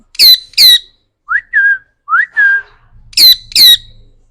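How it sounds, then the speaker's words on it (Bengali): Ringneck parakeet breeding pair giving sharp, loud squawks in two pairs at the start and end, with softer rising whistled calls between, close to the mic with no talk. "একজন রিংনের টিয়া পাখি মাসাল্লাহ ব্রিডিং পেয়ার"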